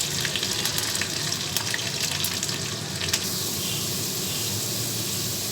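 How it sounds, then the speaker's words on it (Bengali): Potatoes fry and brown in oil for a Bengali prawn malaikari, giving a soft, continuous sizzle with faint crackles, fairly quiet and steady throughout. "আমি আলুগুলোকে একটু ব্রাউন ব্রাউন করে ভেজে নিব।"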